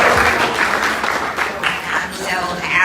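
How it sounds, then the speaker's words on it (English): Crowd clapping at a 106th birthday gathering, a short, loud, fairly close burst of applause with some murmur beneath. "Give it a clap for everybody that came."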